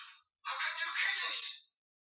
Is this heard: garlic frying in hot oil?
no